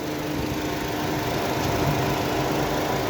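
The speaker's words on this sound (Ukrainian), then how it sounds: "Робить чудово моторчик" A 2007 Renault Laguna's engine idles at a used-car lot, giving a smooth, constant hum with no variation in pitch or speed and no voices over it.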